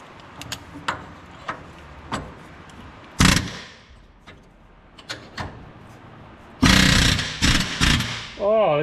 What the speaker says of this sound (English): Try this air hammer.